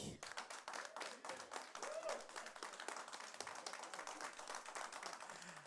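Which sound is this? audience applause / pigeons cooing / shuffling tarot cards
audience applause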